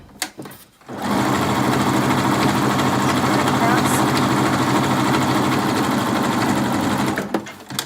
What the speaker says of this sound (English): I am actually just sewing from one piece onto the next piece and stringing them together